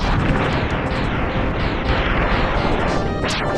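Dense, loud explosion effects from the SNES game Plok boom continuously, a roaring barrage of bursts filling the whole stretch with a sweeping whoosh near the end.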